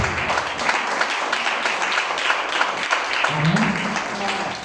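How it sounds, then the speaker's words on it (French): Church congregation clapping their hands in dense, sustained applause, loud and close, with a brief voice rising over the clapping near the end. "We clap the hand for the Lord Jesus."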